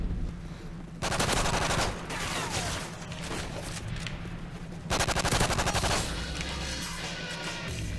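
Rapid automatic gunfire bursts from a Modern Warfare 3 free-for-all match, two dense volleys separated by a short lull, loud and close with a few trailing shots.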